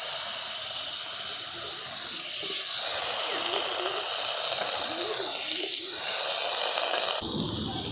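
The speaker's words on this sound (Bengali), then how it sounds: "সেই তেলটাতে আমি এই যে ওল আর আলুটাকে সেদ্ধ করে রেখেছিলাম একটু একটু হালকা করে ভেজে নেব।" Boiled elephant foot yam and potato frying in oil in a kadai, a steady broadband hiss of sizzling running the whole time, fairly loud and close, with a brief shift in tone near the end.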